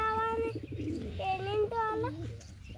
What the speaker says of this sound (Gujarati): તો હવે અમે તમને કબૂતર બતાવી દઈએ.